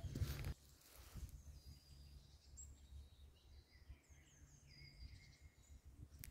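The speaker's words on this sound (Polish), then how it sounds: "Chwilę nie mówiłam, to pewnie było słychać świergot ptaków." Birdsong in a seaside forest reserve: faint, scattered high chirps and short calls over a steady low background rumble, with no talk.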